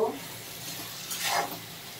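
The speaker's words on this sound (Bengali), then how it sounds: "আবারও একটু নাড়িয়ে ভেজে নেব।" Aubergine being stirred and fried in a pan with salt and turmeric: a soft, low-level sizzle with brief scraping stir strokes at the start and again near the middle, quiet and close.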